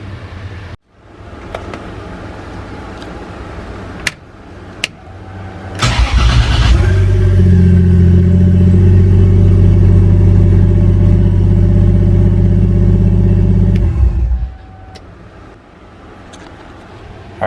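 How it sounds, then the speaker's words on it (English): A Foxbody Ford Mustang, freshly rewired with a switch panel, cranks and fires at about six seconds, then runs at a loud, steady idle for roughly eight seconds before shutting off, with faint clicks beforehand. "being able to start the car with this new wiring"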